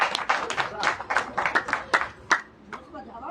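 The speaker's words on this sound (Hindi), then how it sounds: "तो एक बार जोरदार ताली बजा दी भैया अंकित भैया के लिए" Guests at a Hindu wedding ceremony clapping loudly, a burst of scattered hand claps that thins out and fades after a couple of seconds, with speech mixed in.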